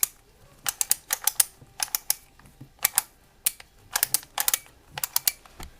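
A Skewb puzzle cube is turned counterclockwise, giving bursts of crisp plastic clicks and ratcheting snaps in quick clusters with short pauses between, close and fairly quiet with no talking.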